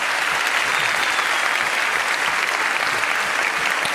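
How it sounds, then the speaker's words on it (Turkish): A television studio audience claps in sustained, dense applause, loud and even from start to finish with no voices over it. "Ben ciddi bir alkış istiyorum."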